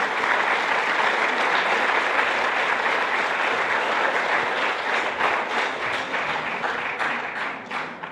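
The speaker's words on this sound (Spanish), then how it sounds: "Vamos a recibir con fuerte aplauso" Church congregation gives a strong, sustained round of applause to welcome a pastor at a farewell service, loud and steady, thinning slightly toward the end with no voices over it.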